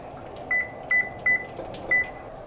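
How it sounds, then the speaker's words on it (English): Four short electronic beeps from a kitchen timer being set, evenly spaced and close, with a steady low hum underneath. "I'm gonna set the timer for 20 minutes."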